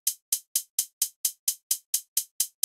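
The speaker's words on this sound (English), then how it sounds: "I have the simplest of hi-hat patterns that sound like this." A simple hi-hat pattern programmed in FL Studio: crisp, bright closed hats ticking in an even, steady rhythm, about a dozen hits, each short and cleanly decaying, with nothing else playing.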